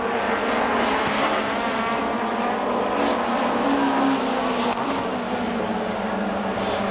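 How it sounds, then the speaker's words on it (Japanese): Touring cars race at Suzuka in the 1994 JTCC, engines roaring loud and steady throughout, with a continuous near, dense drone of racing machinery and no voices. "そして迎えた33周目、星野のスリップにしっかりと入った関谷"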